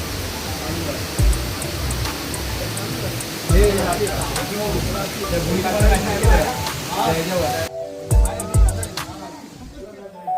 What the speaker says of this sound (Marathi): पाऊस बघा एवढा पाऊस पडतोय, पाऊस थांबतच नाहीये.